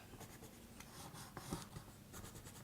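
A black Stabilo pencil is drawn around the edge of an altered file folder, giving faint, continuous scratchy strokes on paper that run through the moment with small bursts, no voices present.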